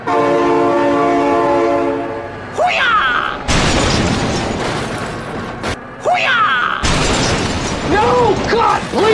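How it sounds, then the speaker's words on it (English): In the BeamNG driving game, a loud train horn blares in a sustained chord, then heavy crashing and rumbling of the passing train breaks in twice, with brief horn blasts and squeals between the impacts. "Oh my god, train!"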